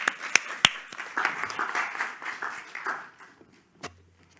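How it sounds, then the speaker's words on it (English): Audience applause at a university lecture in Tilburg: scattered clapping that swells briefly, then thins and fades out over a few seconds, moderately loud in a hall. "So if we could please have a round of applause for Joanna."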